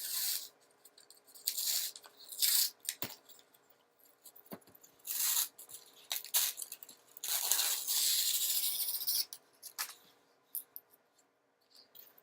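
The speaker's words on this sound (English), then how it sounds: "you want to remove the paper from the top side" Paper peels off the top of a foam board for an RC airplane wing in repeated bursts of crackly tearing and ripping, close up with short pauses between pulls.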